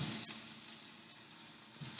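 Yellow squash and zucchini fry in butter in a pan, giving a soft, steady sizzle with a faint stir or two and no talking.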